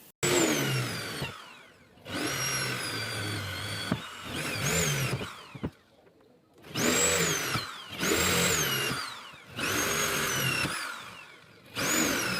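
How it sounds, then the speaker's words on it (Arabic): An electric drill fitted with a 10 mm bit bores into wood for shelf fixings, whining in repeated bursts of about one to two seconds with short pauses between them, close and clear. "الشنيور اللي راكب فيه البنطة 10 عشان خاطر الكوايل بتاعتنا 10"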